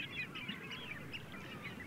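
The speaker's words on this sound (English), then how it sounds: "The Skern is of vital importance as a wintering ground for migrant birds." Migrant wintering birds, likely geese, honk repeatedly on the Skern mud flats of an estuary at Northam Burrows, a steady chorus of calls heard at moderate distance over a constant low background.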